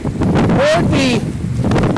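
Strong wind buffets the microphone in heavy, continuous gusts while a person talks over it outdoors at Lake George in April.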